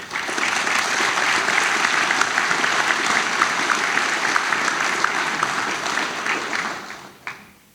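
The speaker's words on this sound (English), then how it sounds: "Let us applaud their generosity." A graduation ceremony crowd applauds award donors for a computer science department: loud, dense, sustained clapping filling the room evenly for about seven seconds before tapering off abruptly at the end.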